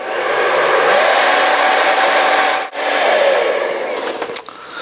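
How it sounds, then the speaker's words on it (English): A steady, loud blowing whir of a hair dryer running continuously to soften the ends of plastic pipes, with a brief dip midway and a clatter near the end. "what you can use is a hairdryer, just to soften the ends of these particular pipes"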